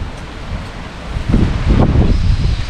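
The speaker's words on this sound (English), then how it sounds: "Cold, windy." Cold wind blowing on a rainy, gloomy midday, heard as steady rumbling wind buffeting the microphone that grows louder and gustier in the second half.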